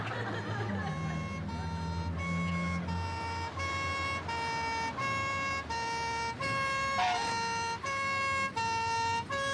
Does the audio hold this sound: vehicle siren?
yes